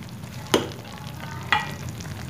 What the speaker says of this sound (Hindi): अब हम इसके अंदर काजू ऐड करेंगे, कुटे हुए काजू